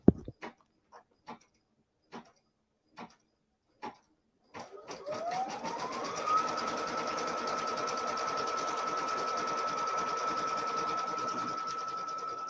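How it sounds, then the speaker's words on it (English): A sewing machine stitches a quilt seam. Several slow single ticks come first, then the motor winds up into a fast, steady, close whirring run that continues to the end. "And this is the last stitch line."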